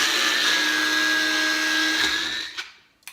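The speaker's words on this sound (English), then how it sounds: "I'm using this little Bella blender because I like it." A small Bella blender whirs loudly, blending pesto in a steady high-pitched drone that winds down and cuts off near the end, followed by a couple of light clicks.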